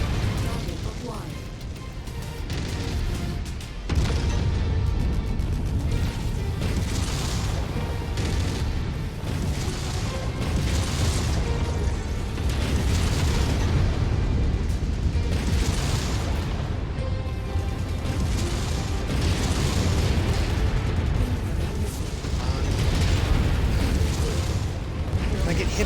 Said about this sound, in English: Can I get hit by enough missiles here?